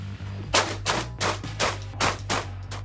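Rapid series of about seven loud, close shotgun blasts in an even rhythm, each a sharp crack with a short ringing tail, over a low steady background hum.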